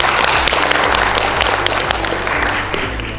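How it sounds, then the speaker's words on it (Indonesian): Crowd applause at a political party meeting of Hanura in Bali, a steady wash of many hands clapping throughout with a low hum beneath and faint voices in the room. "Tepuk tangan dulu ya."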